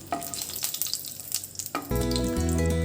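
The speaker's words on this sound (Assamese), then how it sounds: "তেলখিনি গৰম হৈ গ'ল। এতিয়া ইয়াতে মই ইলাচি আৰু ডালচেনিখিনি দি দিছোঁ।" Cardamom and cinnamon fry in hot oil in a pan, giving a steady close crackle and sizzle, with occasional stirring clicks and a louder hissing surge near the end.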